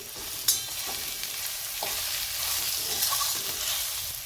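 Turmeric and salt being stirred into a sizzling frying mixture in a pan, with steady close frying hiss throughout and a few soft scraping strokes of the spoon.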